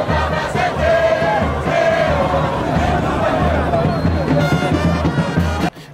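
An enthusiastic crowd greets the arrival of a new provincial governor in Lualaba, with a dense, loud roar of voices, cheers and chanting in close surroundings.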